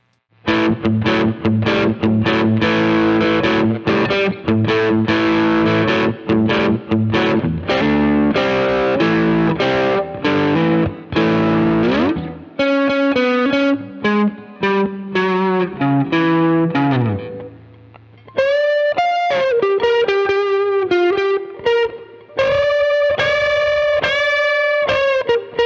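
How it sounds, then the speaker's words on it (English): Electric guitar using a light crunch tone on the middle pickup alone, loud chord strumming that gives way to picked notes and ringing bends, close and clear with no talking. "Light crunch tone, middle."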